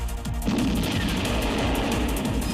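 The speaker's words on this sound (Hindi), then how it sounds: "मिसाइल सीधे अपने टारगेट पर जाकर हिट करती है और जोरदार धमाका होता है" A guided missile strike on a house in war footage lands as a loud, heavy blast followed by dense, continuous rumbling and crackling that fills the whole stretch.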